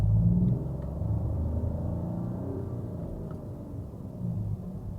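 During a driving lesson, a car gathers speed with a low, steady engine rumble that stays fairly even and subdued inside the cabin, with no voices.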